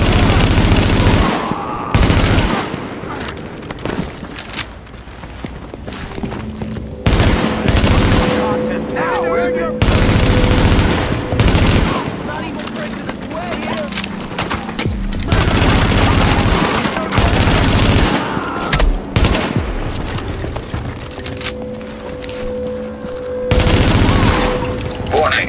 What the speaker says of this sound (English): Warning, incoming hostiles. Warning, supplies taking fire.